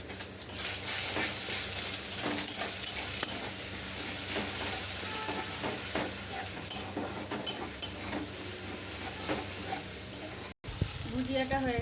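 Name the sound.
two eggs being scrambled and fried in a wok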